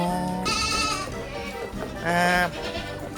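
Goats on a Thai dairy goat farm give two loud, quavering bleats about two seconds apart over a murmuring barnyard background.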